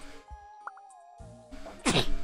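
A single sharp sneeze bursts out near the end, close and loud, after a stretch of quiet room tone with faint background sounds.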